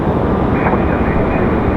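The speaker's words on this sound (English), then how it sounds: "enjoy the 777 departure" A Boeing 777 departs from Raleigh-Durham International Airport as a steady, loud broadband jet roar with a slight swell, heard continuously throughout.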